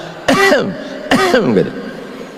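Two loud, close coughs about a second apart, each a short harsh burst with a voiced, falling tail.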